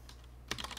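Quick burst of computer keyboard typing, a run of sharp close keystrokes after a short quiet pause, over a low steady background hum.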